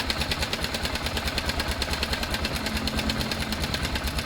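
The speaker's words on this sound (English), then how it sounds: "Let's see if it burps itself with the engine on." A BMW F650 motorcycle engine idles steadily nearby with a fast, even putter that continues throughout, while its cooling system bleeds air.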